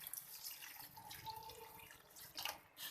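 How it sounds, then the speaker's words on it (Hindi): Water pours into a cooking pot of meat being prepared for tinda gosht curry, a soft splashing trickle with brief louder gushes near the end, quiet and without talk. "पानी हम इसके अंदर इतना डालेंगे कि गोश्त इसके अंदर अच्छे से कुक हो जाए।"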